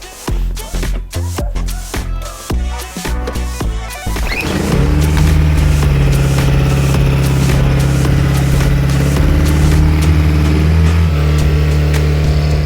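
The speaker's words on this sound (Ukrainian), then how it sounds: "для початку треба запустити запустити генератор, дати йому попрацювати ну хоча б до 5 хвилин, щоб він прогрівся" A four-stroke generator starts with a rapid series of choppy cranking bursts, then settles into a loud, steady, droning run as it warms up, close by with no talk.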